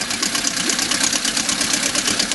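A 1956 Scott-Atwater 7.5 HP outboard motor idles continuously nearby with a rapid, even chugging rhythm and a buzzy, rattling tone.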